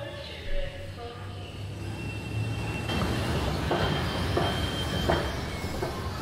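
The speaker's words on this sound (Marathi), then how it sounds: "खाली उतरल्यानंतर तुम्हाला दिसतंय लगेचच समोर की एक ट्रेन आत्ताच सुटलेली आहे।" A Mumbai Metro Aqua Line train pulls away from the underground platform at Dadar with a steady rumble and wheel noise that build after a few seconds, giving a moderately loud, continuous roar in a station setting.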